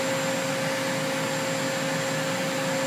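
The spindle of a Cincinnati Avenger 250MT three-axis CNC lathe runs at 500 RPM, giving off a steady, even hum with a constant tonal whine and no variation.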